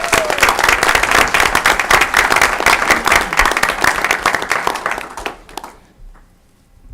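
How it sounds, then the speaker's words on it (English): An audience at a November 2017 board meeting breaks into loud, dense applause that carries steadily before tapering off to quiet near the end. "let's give them another big round of applause"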